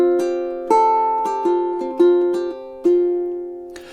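Plucked ukulele melody in a duet with acoustic guitar, a handful of clear, ringing notes picked one at a time at a steady, unhurried pace, close and solo, with no talk.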